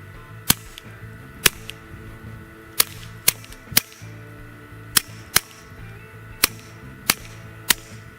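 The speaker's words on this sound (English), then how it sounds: "Moving on to pistol shooting, Element 2, Walther, PPQ 22, and that subsonic ammo." Walther PPQ 22 pistol fired with subsonic ammunition through an AAC Element II suppressor at a SHOT Show range: about a dozen sharp, quiet cracks at uneven intervals, each brief, over steady outdoor background noise.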